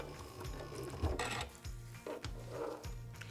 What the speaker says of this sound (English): So let's go ahead and stitch on our Velcro.